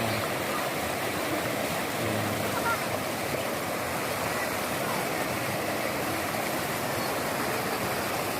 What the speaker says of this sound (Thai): น้ำตกสวยงามมากเลยนะครับ